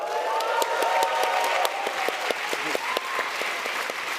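A live audience at a business pitch event claps and cheers in support of a competing team, dense steady applause with sharp hand-claps and a few scattered whoops, close and sustained throughout.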